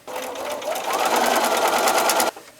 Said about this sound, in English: Next, I'm going to center this side piece onto the side here. Sew this on to the side.